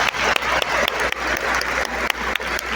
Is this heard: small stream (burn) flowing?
no